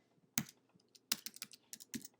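Typing on a computer keyboard while writing CSS styles, a handful of separate clicky keystrokes spread over about two seconds, close and fairly quiet, with no talk.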